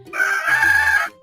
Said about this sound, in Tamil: கொக் கொக் கொக்கரக்கோ